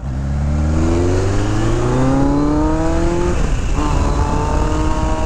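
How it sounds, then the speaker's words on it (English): A 1982 Kawasaki GPZ1100 superbike engine with 108 horsepower runs loud and close, revving smoothly up through the gears in steady rising sweeps, with a brief dip and renewed climb near the end. "What a smooth running motor."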